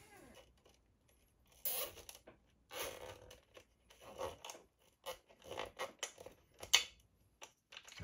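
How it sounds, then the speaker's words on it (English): A zip tie is ratcheted tight around cabling on a guitar pedalboard, giving a series of short, close zipping rasps in irregular bursts, with quiet handling noise between them. "We'll just zip tie this down"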